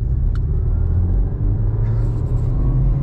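Interior rumble of a stage 1 remapped Audi A3 cruising on the road, with a steady low engine and tyre drone and a brief faint chirp partway through.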